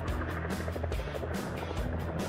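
A helicopter comes in for an emergency landing, its engine a steady, loud mechanical drone with rhythmic rotor pulsing that continues unbroken with no voices.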